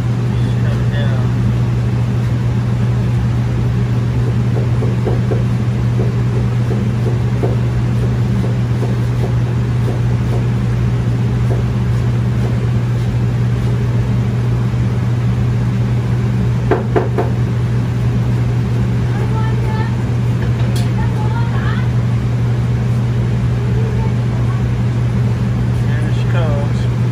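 A rebuilt cold table refrigeration system running steadily during pump down, with a loud, constant low compressor hum and faint mechanical ticks throughout, with no other notable sounds.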